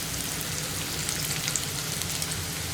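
Masala-coated okra frying in a pan, a steady close hiss and crackle like light rain, continuous and even throughout with no talking.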